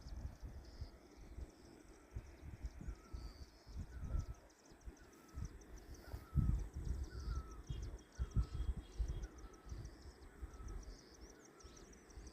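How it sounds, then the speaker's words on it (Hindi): Small birds chirp in a quiet mountain village, with short repeated calls over a soft wind-like background and faint rustling; no one speaks. "तो ये पंछियों के चहचहाने की आवाज़"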